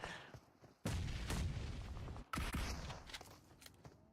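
A grenade goes off in a PUBG Mobile match, two heavy booming blasts with dense rumbling low end, each cutting off abruptly, followed by sharper scattered gunfire pops.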